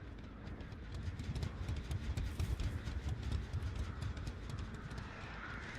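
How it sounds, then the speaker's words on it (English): Footsteps in the video game Dead by Daylight, rapid rhythmic thudding steps running nearby, quiet and steady throughout with no talk. "Why do I hear footsteps like they're like all around me?"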